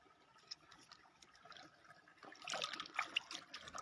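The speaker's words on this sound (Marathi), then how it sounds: "पाणी बघा किती खास वाहते" Stream water near rocks, where crabs are being hunted under stones, trickles and splashes softly; quiet at first, then a louder, busier gurgle in the last second or so, with no talk.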